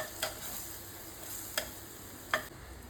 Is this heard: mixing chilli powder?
yes